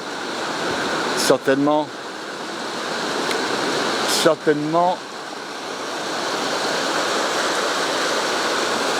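Bout du Monde cascade pours in a continuous broad rushing roar, with a voice speaking briefly twice over the steady falling water.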